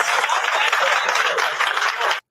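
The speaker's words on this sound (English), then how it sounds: "Also, the clapping and stuff," A studio audience claps in a TV courtroom scene, a dense, loud burst of applause that runs unbroken for about two seconds and then cuts off abruptly, with some speech mixed in.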